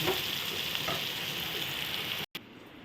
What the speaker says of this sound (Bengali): দেখো আলুগুলো সুন্দর অনেকটা ভেজে গেছে